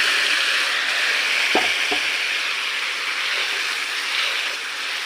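Steady broadband sizzling as food is poured into a wok of hot oil, loud and close, with a couple of brief clinks partway through.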